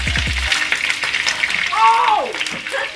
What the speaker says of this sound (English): We got the oil already cooking, so we just about to just pour these things in here.